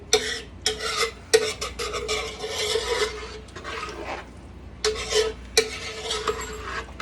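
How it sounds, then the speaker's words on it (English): A spoon stirs jambalaya in a pot, giving repeated close scraping and rasping strokes in uneven bursts, with brief pauses between them and no talk. "We'll stir this again."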